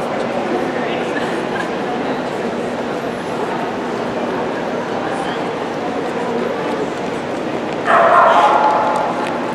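A puppy yips and barks repeatedly at a breeding kennel, mixed with steady background noise and people talking nearby, with a louder burst of yipping near the end.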